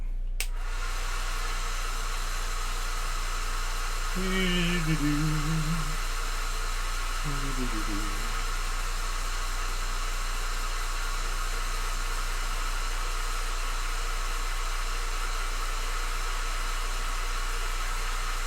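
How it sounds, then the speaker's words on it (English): A hair dryer blows continuously to dry paint on ForgeWorld Aeldari Corsair miniature models, a steady close rushing whoosh lasting the whole stretch, with a couple of short faint voice sounds over it. "Actually, here, let's hit it with the dryer."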